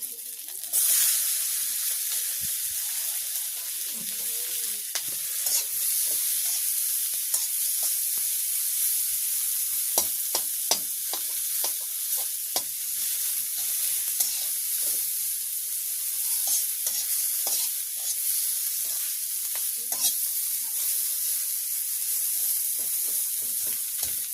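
Onion and chili sizzle loudly in a pan in a village kitchen, giving a constant dense hiss with scattered crackles and pops throughout, close by, no voices.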